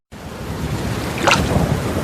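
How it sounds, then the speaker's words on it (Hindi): Strong wind and heavy rain in a cartoon storm, a steady broadband roar throughout with a brief thunder crack near the middle. "तेज हवा चलने लगी और जोर से आसमान गरजने लगा"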